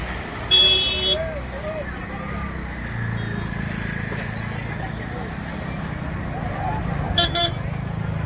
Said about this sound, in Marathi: गाड्या वगैरे सगळं चालूच आहे